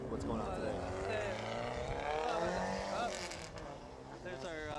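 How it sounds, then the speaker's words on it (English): A Porsche race car engine running a little too rich, with a steady, loud drone and pitch changes as it passes, heard under a commentator talking. "There's our Porsche with a bit of a mechanical issue there, a little too rich"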